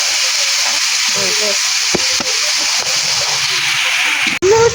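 Kalai greens going into a hot cooking pot over a loud, steady hiss of sizzling and steam, with a dull thump near the end and voices faintly audible underneath.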